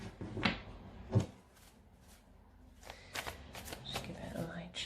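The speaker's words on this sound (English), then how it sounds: "Just give it a light shuffle." Tarot cards are shuffled in short riffling bursts, soft and close, with pauses between them and quiet speech alongside.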